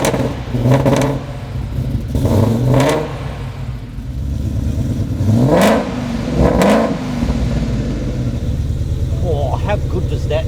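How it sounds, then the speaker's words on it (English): Ford Mustang engine revving loud and close, several sharp throttle blips rising and falling, followed by a steadier idle rumble; voices may be faintly present. "What you want to know is what this thing sounds like."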